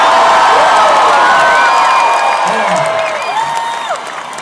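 Concert crowd in Atlanta cheering, whooping and applauding, a loud, dense roar of voices and claps that holds steady and then eases slightly toward the end.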